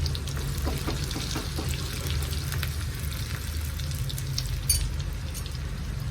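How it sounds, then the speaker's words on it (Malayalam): Four chopped small shallots fry in hot oil in a pan, a steady close crackling sizzle with faint scattered pops, continuous and without voices. "നാല് കൊച്ചുള്ളി അരിഞ്ഞതാണ് നന്നായിട്ടൊന്ന് മൂക്കണം"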